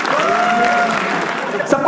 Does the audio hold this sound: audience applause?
yes